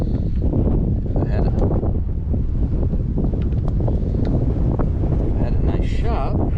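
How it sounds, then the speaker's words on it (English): Strong gusty wind buffets the microphone in a continuous loud rumble with no letup, heard outdoors around a John Deere 787 strip till. "That wind is just obnoxious."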